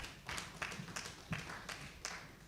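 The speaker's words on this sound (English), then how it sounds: "Give them a round of applause." An audience claps at a company's annual general meeting: faint, scattered applause with distinct individual claps, steady and somewhat distant for a few seconds.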